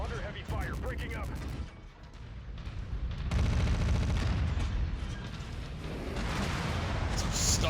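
Heavy gunfire and artillery boom in a mech combat video game, a dense, continuous barrage of cracks and thuds that swells and eases over several seconds, with game voices mixed in.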